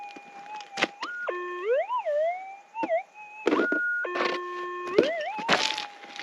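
Electronic warbling tones from a metal detector, rising and falling in pitch and sustained, broken by crunchy scraping and knocks from digging nearby.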